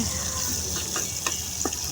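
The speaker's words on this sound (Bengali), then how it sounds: "উল্টে পাল্টে এখন বেগুনটা সুন্দরভাবে ভেজে নিব লাল করে।" Eggplant slices fry in hot oil, a continuous close sizzle broken by a few soft stirring and turning scrapes, with no voices.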